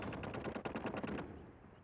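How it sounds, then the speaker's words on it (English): Automated sentry gun firing in the mobile shooter game Call of Duty Mobile, a rapid burst of about eight shots, fairly faint and short, trailing off. "Be advised, hostile sentry gun spotted."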